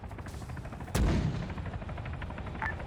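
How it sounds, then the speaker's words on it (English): A mortar fires in a military counterinsurgency game: one sharp, loud, booming launch cuts through a low rumbling background, followed by a fading tail and a faint later pop. "So I'm just firing 4 random shots."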